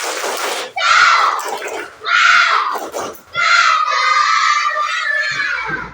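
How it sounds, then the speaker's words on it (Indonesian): A school class performs the 'tepuk semangat' clapping chant, with children's voices shouting loudly together in three energetic bursts, the last held longest. "boleh dipimpin tepuk semangatnya biar teman-temannya makin semangat"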